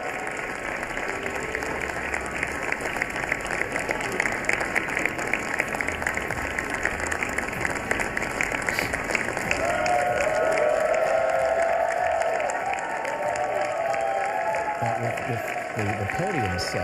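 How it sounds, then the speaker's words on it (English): A large outdoor crowd at a presidential inauguration applauds and cheers continuously, the clapping dense and steady and rising a little toward the end, with a news commentator speaking over it. "the Vice President as well, and Mrs. Vance, an enthusiastic crowd welcoming them."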